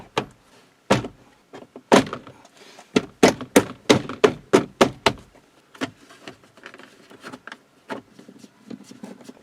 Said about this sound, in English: Let's pop this door back together until we get parts